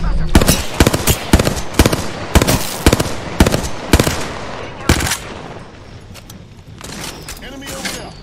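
Gunfire aimed at the player in the video game Apex Legends, loud rapid bursts of automatic shots that thin out into scattered single cracks, with a voice speaking over the fight.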